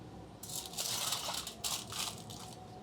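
Clean aluminum foil crinkles and crunches as drill bits are packed into it in a lab, a close, faint, bursty rustle in two or three short waves with no voices.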